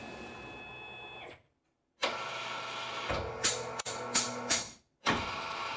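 A Tormach lathe finishes a shoulder with a chamfer on an alignment pin for a fixture plate. A close, steady machining drone is broken by a short silence, then resumes with several sharp cutting surges before another brief stop.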